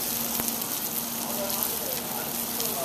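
White fish frying in olive oil in a pan, a continuous close sizzle and crackle with a faint steady hum underneath.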